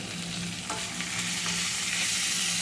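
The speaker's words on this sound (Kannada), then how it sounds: "ಸ್ವಲ್ಪ ಫ್ರೈ ಮಾಡಿಬಿಟ್ಟು ಸ್ವಲ್ಪ ಅರಿಶಿನ ಸೇರಿಸ್ತೀನಿ ಇದಕ್ಕೆ" Spices and turmeric fry in a pan with a close, continuous sizzle, broken by soft scraping strokes of stirring, with no talk.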